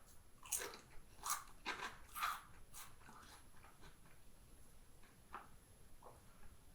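Salt and vinegar potato chips crunched close to the mic, several bright crisp bites in quick succession early on, then a few fainter, sparser crunches trailing off.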